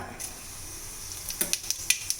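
Soft sizzling of fennel seeds in hot oil, with several sharp little pops and crackles in quick succession toward the end.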